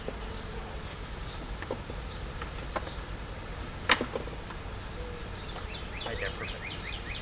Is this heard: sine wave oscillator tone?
no